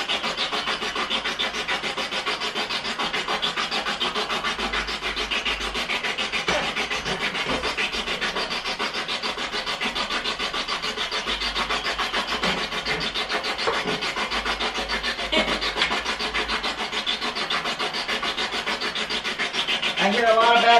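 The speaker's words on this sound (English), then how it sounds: "we're gonna turn the spirit box on and see if we can communicate with anyone here" Spirit box device sweeping through radio channels, producing a continuous faint rasping static hiss with no clear voices, steady for about twenty seconds.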